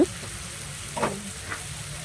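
Cabbage and prawns frying with spices in a pan give a steady low sizzle, broken by a couple of brief stirring scrapes.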